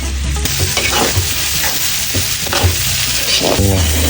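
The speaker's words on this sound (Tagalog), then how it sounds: "Sinalangan natin yung pork giniling." Ground pork sizzles in a pan with garlic and onion, a loud continuous frying hiss close up, punctuated by repeated scraping stirs of a utensil against the pan.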